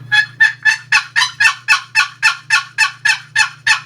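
A box call imitates a hen turkey's spring yelp as a fast, even series of about fourteen raspy notes, loud and close against a faint low hum.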